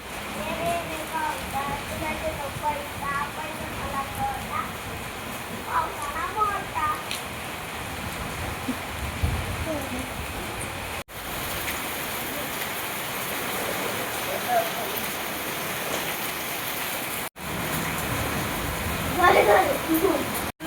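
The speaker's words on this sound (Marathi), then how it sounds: "खूप मोठा पाऊस यायला लागलेला आहे." Heavy rain pours steadily in Daund, a dense continuous hiss running throughout with brief dropouts, while voices talk over it.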